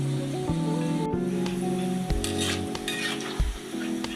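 Cabbage pakoda sizzles in hot oil with a steady frying crackle, while a spoon clinks and stirs against the pan in short knocks over a low background hum.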